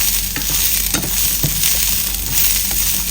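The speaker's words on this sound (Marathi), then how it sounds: "त्याला सगळं एकदाच भाजून घ्यायचं व्यवस्थित मस्त खरपूस" Chilies and other thecha ingredients roast on a hot tawa with a loud, continuous crackling sizzle, punctuated by soft scraping as they are stirred. No one speaks.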